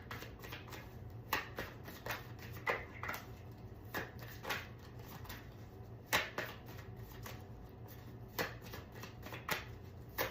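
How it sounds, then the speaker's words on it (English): Tarot cards being shuffled and drawn from the deck, giving soft papery riffles and brisk flicks in irregular bursts at close range over a low steady hum, with no talking. "I'm going to pull one more card from here"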